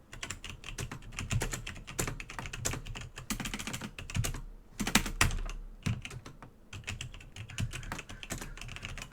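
Close, brisk typing on a faulty computer keyboard that double-types letters, with dense clattering key clicks broken by a brief pause midway and no voices.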